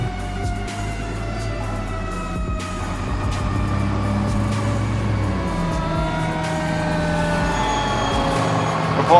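A fire engine rumbles at idle on a PGFD fire ground with a loud, low, continuous diesel drone and occasional clanks and hisses nearby.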